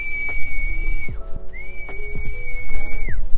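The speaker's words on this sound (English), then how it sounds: "See if the whistle works on them this time." Several sharp, high whistle blasts, blown to call a pigeon flock, some long and held, others short with falling pitch, sound loudly over a low background rumble, with no talking.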